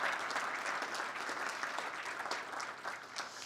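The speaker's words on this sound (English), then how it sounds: "how about another round of applause for the governors that you heard from today?" An audience applauds the governors at a summit, a dense wash of clapping that stays fairly even and slightly distant throughout, with no speech over it.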